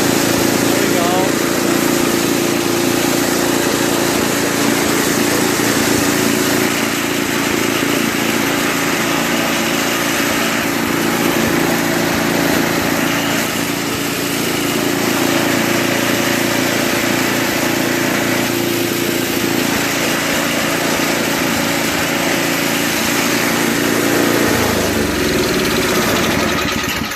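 The Tecumseh engine of an old Toro 521 two-stage snowblower runs loud and steady at close range, a continuous droning hum with only slight changes in pitch throughout.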